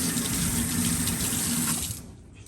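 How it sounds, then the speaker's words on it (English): A paintbrush is scrubbed under a running sink tap to rinse pigment from its bristles, a steady close splash and gush of water that thins out in the last half second. "give it a scrub to get all the pigment out of the bristles"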